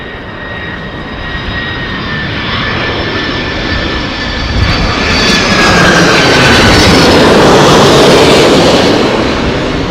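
An Embraer E190 jet roars loudly and close at Heathrow Airport in stormy conditions, its engine noise steady and swelling toward the end, with whining tones sliding overhead and no voices.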